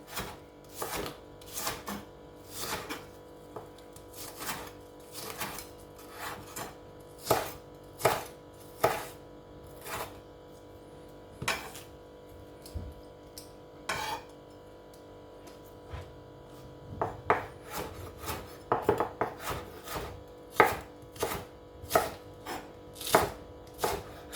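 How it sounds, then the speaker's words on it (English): A knife julienning spring onion taps sharply against a cutting board in quick uneven bursts, close and crisp, the strokes speeding up toward the end with short gaps between runs. "So what I have here is some spring onion. I want to julienne them."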